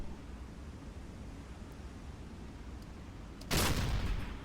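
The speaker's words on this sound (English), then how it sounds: "It's another thrilling deck gun attack, courtesy of effing controller" A submarine deck gun fires in Silent Hunter III, one sharp loud blast with a short rumbling tail cutting through steady ocean and engine noise.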